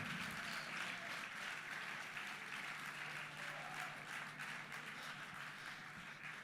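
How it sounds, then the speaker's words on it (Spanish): Congregation in a church service applauding, a steady dense wash of clapping sustained throughout, fairly distant and even. "El aplauso es para Él"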